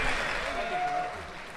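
Audience applause after a debate, a brief wash of clapping that fades under a host's voice.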